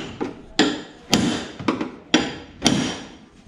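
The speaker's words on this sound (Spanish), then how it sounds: "A los martillazos, ¿va?" Hammer blows land on a dented car body in a Mexican repair shop, about six loud ringing metallic strikes in an uneven rhythm, close and clear with no talk.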